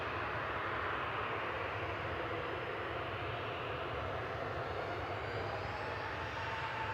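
Ryanair Boeing 737-800 jet airliner at Manchester Airport bound for Funchal, giving a continuous wide engine roar with a faint rising whine on top, steady and moderately distant, no talking.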